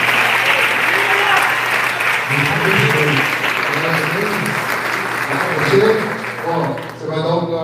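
Church congregation applauding throughout, dense continuous clapping with voices and someone speaker's talk rising over it near the end.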